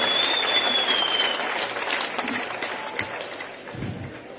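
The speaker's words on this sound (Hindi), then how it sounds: "जोरदार तालियां बजाओ" An audience at a Hindi poetry gathering (kavi sammelan) in Baraut applauds, a broad, steady wash of clapping that holds for several seconds and thins slightly toward the end.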